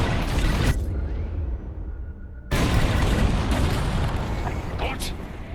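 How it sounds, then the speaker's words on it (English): Bombs exploding during a bombing run in the video game Star Wars Squadrons: loud, dense booming blasts that briefly drop away into a low rumble, then return as a sustained roar of explosions. "On my mark, it's bombs away."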